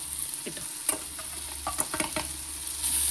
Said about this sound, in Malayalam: എന്നിട്ട് അതെല്ലാം കൂടി ഒന്നിച്ച് ഇളക്കി യോജിപ്പിക്കുക